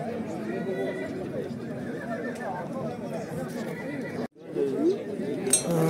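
Horses at a horse market in Nooken neigh and whinny amid steady crowd chatter and the clip-clop of hooves, with a loud whinny standing out near the end.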